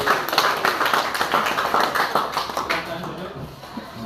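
A group in a classroom clapping out a rhythmic 'tepuk salut' clap game, quick patterned claps repeated in bursts, with voices chanting along over the clapping.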